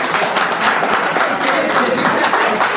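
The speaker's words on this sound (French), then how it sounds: "Est-ce qu'on peut les applaudir" Applause for three children at a wedding vow renewal party marking a 15th anniversary, a dense steady patter of clapping that fills the whole moment, fairly loud and close.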